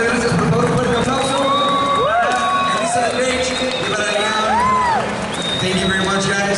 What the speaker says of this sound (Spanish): por favor, fuerte aplauso